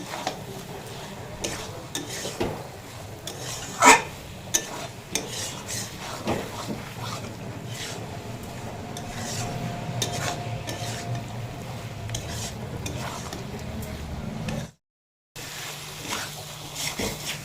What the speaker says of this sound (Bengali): মশলার সঙ্গে আলু আর পটলটা ভালো করে কষিয়ে নিয়েছি